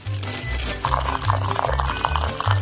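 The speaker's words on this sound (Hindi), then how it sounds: "फिर एक ग्लास में इसे डालेंगे और फिर उबलते हुए पानी को डालेंगे।" Boiling water poured into a glass holding freshly ground coffee powder, a steady liquid pour with light glassy clinks, close and fairly loud, no talking.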